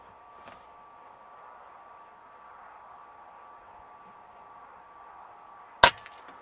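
An R10 air rifle fires one sharp, loud crack at a pigeon on a roof, following several seconds of faint, quiet background hiss, with a faint tap near the start and no talking.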